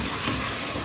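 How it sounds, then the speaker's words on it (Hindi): Spiced aloo gosht mixture of ground onion, chilli, salt, dried coriander, cumin and turmeric being stirred in a pan, giving a steady, close sizzling and scraping hiss with no speech. "अब अच्छी तरह मिक्स करेंगे।"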